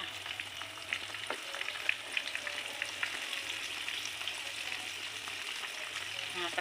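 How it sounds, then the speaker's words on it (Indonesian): Chicken pieces coated in flour batter fry in hot oil for a home-style crispy fried chicken, giving a steady, dense crackling sizzle close up with faint stirring, a voice talking lightly underneath. "tinggal kita masukin aja ya ayamnya ke dalam minyak gorengnya seperti ini teman-teman ya"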